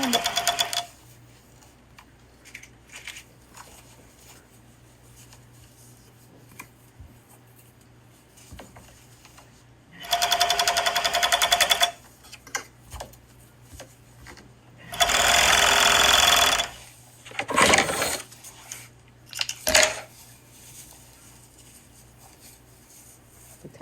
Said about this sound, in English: And now just sew around it.